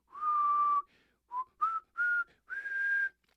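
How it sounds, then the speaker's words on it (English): A single person whistles clear tonal notes: one long held note, then several short phrases with brief gaps, close and alone with no talk. "just practicing my whistle"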